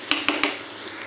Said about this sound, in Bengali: এখানে সব মশলা দিয়ে আমি মশলাটা কষিয়ে নিচ্ছি